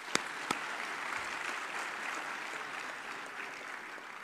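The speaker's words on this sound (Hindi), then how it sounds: "एक बार सबके लिए तालियां बजाइए।" An audience claps at a recognition ceremony honouring a service trust, a couple of sharp early claps swelling into sustained, moderately distant applause that carries on steadily without speech.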